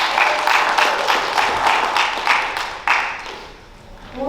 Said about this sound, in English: Another round of applause for your judges.